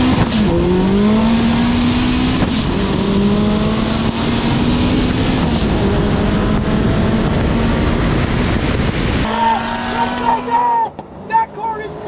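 Bugatti Veyron racing an SSC Tuatara, a loud sustained engine roar with rising and falling pitch as the cars launch and one spins its wheels, then a fading drone; excited voices shout over it.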